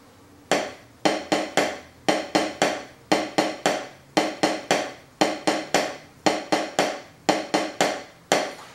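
A taiko drum plays a diddle drill in a don doko pattern, with sharp, resonant strikes in quick grouped bursts repeating at an even pulse, loud and close with nothing else heard.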